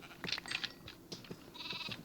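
Sheep bleating in a video game, several short wavering bleats at moderate distance, fairly faint, with no talking.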